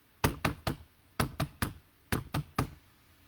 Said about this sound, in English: at the knock of the Choreagogos